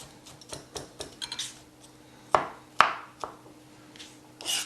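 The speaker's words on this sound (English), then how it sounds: "zucchini, the inside, we will just cut on a small diced cubes" A knife cuts zucchini flesh into small cubes on a board, giving a quiet run of light taps and scrapes with a few sharper, louder knocks and clatters, no talk.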